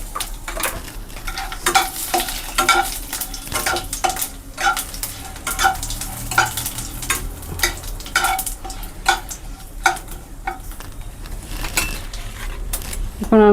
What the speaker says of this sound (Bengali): এখন আমি দিয়ে দিলাম জিরা ফোড়নে দেওয়ার জন্য, দিয়ে দিলাম শুকনো লঙ্কা, আর দিয়ে দিলাম দুটো তেজপাতা